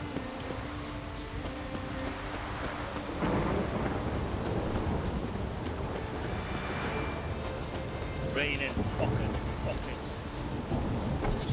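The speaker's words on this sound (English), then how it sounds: "It now starts raining and you bloody moan about it" Steady rain with rumbling thunder in the fantasy game The Witcher 3: Wild Hunt, a continuous wash of downpour that swells louder partway through, with someone talking over it.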